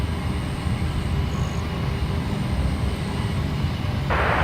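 A Jetstar airliner at Brisbane Airport gives off a steady, distant engine roar and rumble with a faint whine, continuous throughout, and a burst of hiss near the end.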